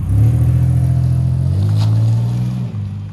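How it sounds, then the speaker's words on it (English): A Chevrolet Impala with thirteen years on the road drives along, its engine giving a loud, steady low drone heard from close by and easing slightly near the end, with no talking. "Now let's take it out for a quick drive and see if it drives like it looks."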